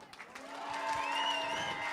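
A studio audience at a drawing-battle game show applauds steadily for about two seconds, a dense continuous clatter of clapping with some cheering mixed in.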